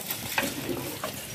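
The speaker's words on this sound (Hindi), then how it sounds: "मम्मी और खुशी इधर आलू पका रही है" Potatoes cooking in a pan in a village kitchen, a brief steady sizzle with a couple of light stirring scrapes, close and without talk.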